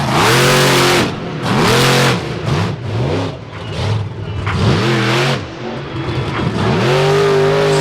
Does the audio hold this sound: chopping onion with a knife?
no